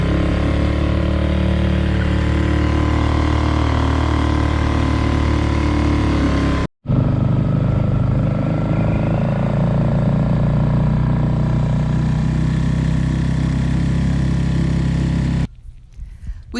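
Boat outboard motor, freshly cleaned carburetor and fuel lines, running loud and close with a steady rough drone that holds throughout, briefly cutting out once midway and dropping off near the end.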